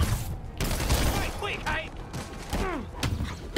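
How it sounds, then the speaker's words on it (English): Scattered gunshots and thuds from combat in the Spider-Man PS4 game, sharp cracks and impacts arriving in irregular bursts amid clattering action effects, with brief voices mixed in. "You just shot your own guy."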